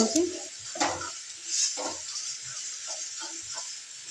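Raw banana peel chutney with chili being stirred and mixed, producing soft intermittent scraping strokes against a steady background hiss, faint and close, while someone talks over it.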